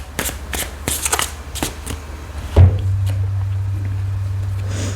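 Tarot advice cards shuffled in a pick-a-card reading, several quick riffling bursts close up, then a dull thump as the deck is set down, leaving a low steady hum.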